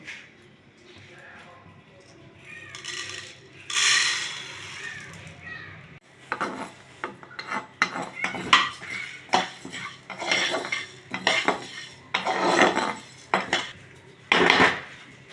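Kalai (urad) dal roasting in a pan, stirred with a metal utensil: repeated close scraping and clinking of metal on the pan in uneven bursts, with some background voice and rustling.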